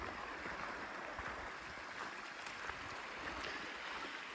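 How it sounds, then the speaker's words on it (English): Steady broadband rush of a creek flowing close by a forest campsite, constant and even in level throughout, with no voices. "The creek is still just right here. You can hear it fine from our vehicles"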